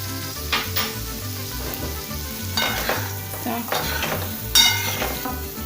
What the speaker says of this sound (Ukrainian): і буду смажити на середньому вогні.